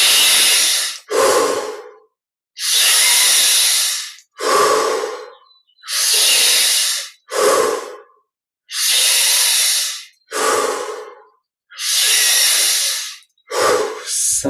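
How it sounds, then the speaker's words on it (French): Deep, slow breaths during a guided meditation, close and clear: about five full cycles of a long inhale followed by a shorter exhale, with short silent pauses between them and no voice. "On inspire profondément."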